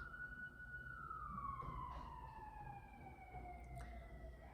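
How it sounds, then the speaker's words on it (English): A siren wails in the distance, its pitch sliding slowly downward as it passes, over a steady low rumble of traffic. "there's our confirming siren in the background. Let it go past."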